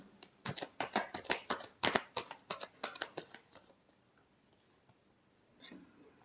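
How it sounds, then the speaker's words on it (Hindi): Tarot cards being shuffled by hand: a rapid series of crisp, papery slaps and riffles for about three seconds, close and fairly loud, then near silence with one faint brush near the end. "last shuffle"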